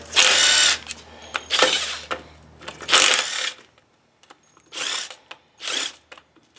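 A power tool runs in five short, loud bursts, pausing between each, as it backs the many pan bolts out of a Turbo 400 automatic transmission during a teardown.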